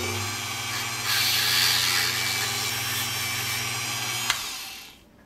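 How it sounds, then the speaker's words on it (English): Power-tool grinding of rough burrs off metal rod ends for a model ship, a steady whirring abrasive drone that rises in intensity partway through, then cuts off with a brief click before fading out. "The idea is just to get the rough burrs off"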